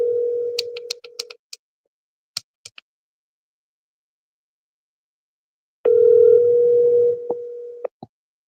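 A telephone call being placed: two ringback tones sound, separated by a long silence and mixed with faint clicks and ticks, close and clear with no talk.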